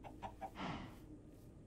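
A chicken in modded Minecraft clucks in a few short, soft bursts followed by a longer squawk, faint and nearby in an otherwise quiet scene.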